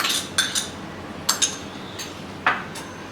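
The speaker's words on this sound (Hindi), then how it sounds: "तो ये मैं एक कैप्सिकम डाल रही हूँ" Chopped capsicum dropped into a bowl while making raw masala poha, giving a handful of light clinks and taps against the bowl, spaced irregularly and heard up close without speech.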